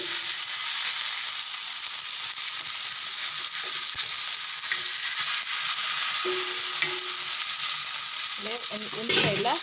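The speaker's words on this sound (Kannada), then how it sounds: "ಒಂದು ಸೈಡ್ಲ ಕಾಯಾಡು" Fish frying in a pan while being made into a fish fry, a steady close sizzle with occasional stirring clinks and scrapes, no talk.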